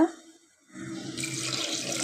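Water pours into a cooking pot holding potato, onion, tomato and turmeric, a faint splash at first, then a brief gap followed by a steady, close rushing stream.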